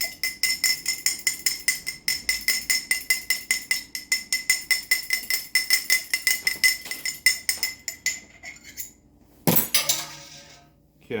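A fork beats egg and water together in a cup for egg wash, clinking rapidly and steadily against the side in a fast rhythmic stream for about nine seconds, then a brief scrape and a final tap.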